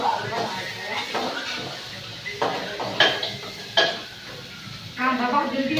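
Food being stirred and mixed in a pot while onion fries in oil, with spoon scrapes and clinks against the pot over a soft sizzle, several sharp knocks standing out.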